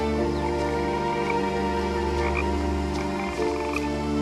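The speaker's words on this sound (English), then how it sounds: "Those frogs are loud." A loud chorus of frogs croaks continuously in the video game What Remains of Edith Finch, a dense, steady layered drone with no pauses.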